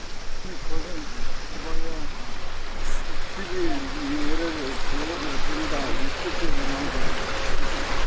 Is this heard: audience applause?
no